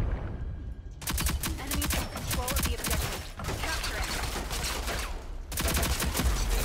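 Rapid automatic gunfire rattles on in Rogue Company gameplay, with long dense bursts of sharp shots separated by brief pauses, loud and close over a busy game background.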